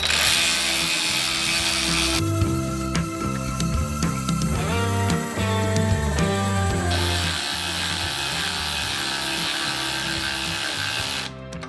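Ryobi 18-volt One+ cordless 3/8 ratchet drives a 6-inch 3/16 lag bolt with a steady, loud mechanical whir and grinding. The pitch shifts as the load changes, and the sound runs continuously for about twelve seconds.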